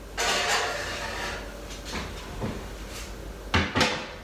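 An Aga roasting oven door being shut with a couple of clunks and latch sounds near the end, after some shuffling handling noise in a kitchen.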